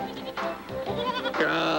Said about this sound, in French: Ah, sacré bouc!